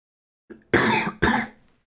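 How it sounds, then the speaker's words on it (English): A person clears their throat and coughs twice in quick succession, close and fairly loud, then falls silent. "Sorry for the cough"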